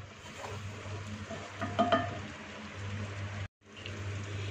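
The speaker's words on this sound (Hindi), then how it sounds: "इसमें ड्राई फ्रूट्स का सॉस ये शामिल कर देंगे। एक दफ़ा इसको अच्छे से मिक्स कर लेंगे।" Mutton korma with a dry fruit sauce being stirred in a pot, giving a soft, steady scraping and gentle sizzle with a brief clatter near the middle and a short gap of silence near the end.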